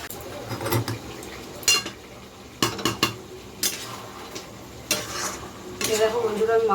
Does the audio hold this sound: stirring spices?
yes